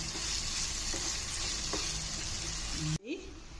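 Brinjal and tomato frying in a pan for Telangana-style chutney, a steady dense sizzle running close and loud for about three seconds before cutting off abruptly into quieter room sound.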